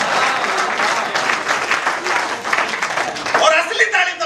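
Audience applause at a Hindi kavi sammelan poetry gathering, a dense steady patter of many hands lasting several seconds, with a voice emerging near the end.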